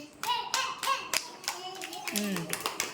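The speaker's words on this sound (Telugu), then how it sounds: "వెరీ గుడ్, క్లాప్స్ కొట్టండి." Several sharp bursts of hand clapping from a group of children in an anganwadi preschool, uneven and overlapping, mixed with a voice and someone speaking.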